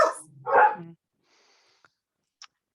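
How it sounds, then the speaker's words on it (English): Dogs barking indoors during a conversation, two quick loud barks at the start, followed by faint scattered small noises and near silence. "The dogs joining in there."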